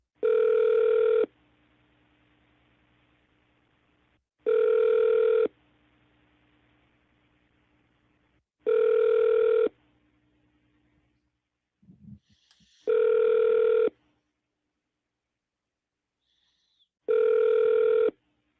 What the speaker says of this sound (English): Connecting you to the office of Senator Mitch McConnell.